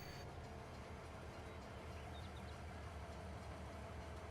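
A train wagon rolls on rails in Farming Simulator 22 on the Bavarian Forest map, reversing to a grain loading point. It makes a steady, dense rumble with faint clatter that runs unbroken throughout.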